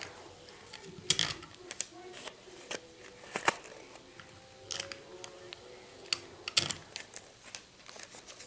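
Tape pulled and pressed onto a handmade paper toy gun, a series of close, sharp crackling tears and taps scattered irregularly through the stretch, with no talking.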